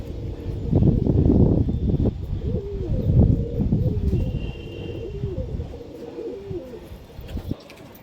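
Native high-flyer pigeons at a loft sale coo in repeated low, rounded calls, fairly close, with a steady breezy background and a few faint chirps.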